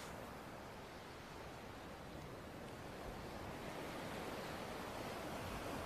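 Ocean waves washing onto a beach in the Kingdom Hearts video game, heard as a steady, broad surf roar that holds at an even loudness throughout with no voices.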